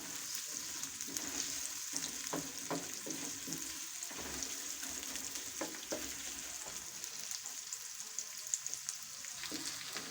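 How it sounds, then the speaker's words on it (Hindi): Onions frying in a pan for a home-style turnip and pea curry, a soft, steady sizzle with occasional light stirring clicks, fairly quiet and continuous with no talking. "इन प्याज़ों को भी हम फ्राई कर लेंगे।"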